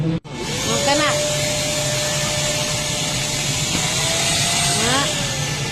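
A Happ pull 9 vacuum cleaner starts up after a brief click and runs with a steady, loud whine and hum close by, with pitch shifts as it is moved.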